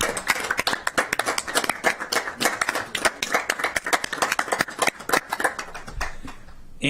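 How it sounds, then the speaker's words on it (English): A small group in a county council chamber claps in a loose, uneven burst of individual hand claps that lasts several seconds and then thins out, with no one talking over it. "So please give Selena a round of applause."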